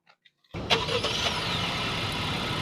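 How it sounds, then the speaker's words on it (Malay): A Honda HR-V e-Turbo started by remote key: a few faint clicks, then the engine cranks and quickly settles into a steady idle close by. "saya boleh tekan butang hold, nescaya enjin akan start"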